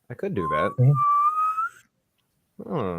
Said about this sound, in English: When I whistle, I always inhale to whistle.